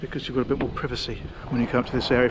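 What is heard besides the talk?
No everyday noise stands out behind the speech.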